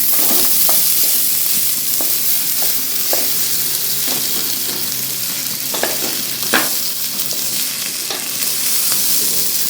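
Broken wheat upma is stirred in a frying pan, a constant close sizzle broken by scraping strokes of the spoon against the pan at an uneven pace, with no voices.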